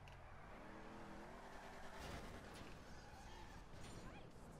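A car engine revs while drifting in an online driving game, a steady loud roar with rising pitch sweeps and a hint of tire squeal, with faint talk underneath.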